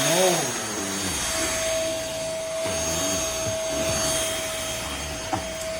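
A MBYULO 450W 40Kpa cordless stick vacuum cleaner runs steadily at close range with a constant high whine and broadband airflow roar, while a person talks over it.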